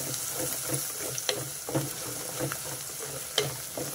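Fenugreek leaves and broad beans fry in oil with turmeric, a steady close sizzle broken by stirring scrapes and occasional sharper spatters.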